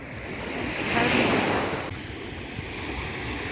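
Black Sea waves wash onto the shore at Langeron beach in Odesa, a soft rolling surge that swells and recedes with light wind rumble, fairly close and steady.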